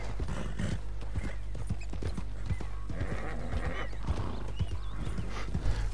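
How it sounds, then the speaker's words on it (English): In Red Dead Redemption 2, a horse's hooves clip-clop in a quick steady rhythm while it whinnies, loud and close, with a low rumbling background. "Look at the sound effects. The horse, so good."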